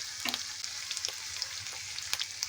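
Tomato masala for Bengali prawn malai curry sizzling and frying in oil as turmeric and chili powder go in, a steady close crackle with small stirring scrapes throughout.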